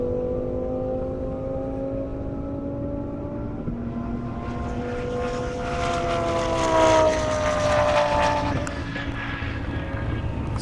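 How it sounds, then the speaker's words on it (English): A Lamborghini Huracan capable of 200 mph accelerates along an airstrip, its engine note rising steadily and growing louder as it approaches, then peaking and holding. Nobody talks over it. "I got Julian's Huracan, his 200 mile an hour capable Huracan."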